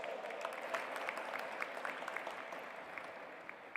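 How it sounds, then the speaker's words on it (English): Audience at a G20 interfaith summit gives a sustained round of applause, a dense, even patter of many hands clapping at moderate distance with no voices over it. "Please welcome her with a big round of applause"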